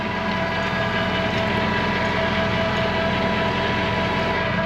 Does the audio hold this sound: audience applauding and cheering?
no